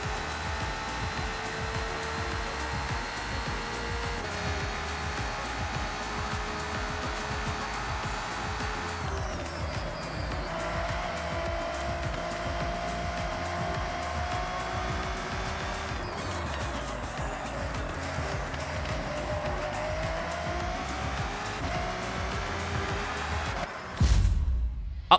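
Steady engine drone of a race car in Forza Horizon, with a sustained tonal whine that shifts pitch through gear changes and cornering, continuous and fairly loud throughout, ending in a brief louder burst.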